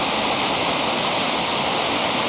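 A waterfall and river swollen with snow melt roar in a constant, dense wash of rushing water, loud and close, with no voices.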